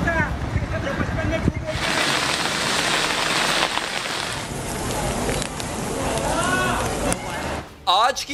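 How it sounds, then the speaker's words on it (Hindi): Heavy rain on flooded city streets: a loud, steady wash of falling water and splashing, with vehicle noise and a voice speaking over it near the end. "बारिश से शहर की सारी बड़ी सड़कें पानी में डूबी रही।"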